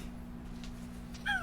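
A cat gives a short, clear meow near the end, preceded by quiet room hum and faint rustles; close and brief.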